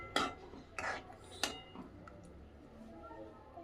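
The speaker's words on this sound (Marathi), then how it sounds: "तर याला थोडंसं हलवून घ्यायचं असं, म्हणजे ग्रेव्हीमध्ये कसं पनीर मिक्स होईल व्यवस्थित." A spoon stirs paneer cubes into spinach gravy in a pan for palak paneer, with a few faint scraping clinks against the metal and soft squelchy mixing, quiet and close, fading into low background hiss.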